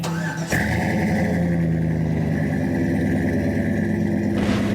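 A car engine at a car show starting up with a sharp catch, then settling into a loud, steady, rumbling run close by, with a brief rev near the end.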